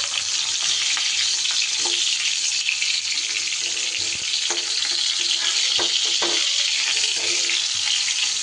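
Pointed gourd (potol) fries in hot oil with a loud, unbroken hiss, while occasional clinks and knocks sound as the browned pieces are lifted out.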